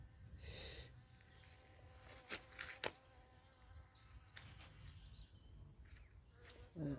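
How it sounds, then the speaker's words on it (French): Bees buzz and drone around the listener at close range, with a few brief louder passes over a steady low background hum. "Voilà, même les abeilles, elles viennent."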